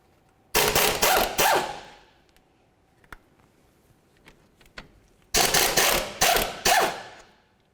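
Two 17mm bolts holding a brake caliper bracket to the steering knuckle of a 2004-2006 Scion xB are run out with a loud impact or ratchet tool, each in a short rapid burst with quiet handling between.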